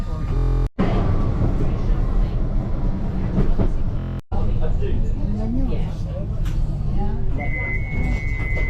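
A Blackpool tram rumbles on rails between Fleetwood and St Annes with steady mechanical noise, brief cuts, and a high tonal beep near the end; voices are faintly present.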